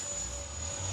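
An E-flite Viper 90mm electric ducted-fan RC jet on its landing approach gives a steady, continuous whine with a sustained high tone and low rumble, constant in level throughout.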